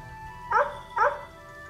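A dog gives two clear yappy barks about half a second apart, close and alone over a quiet indoor background.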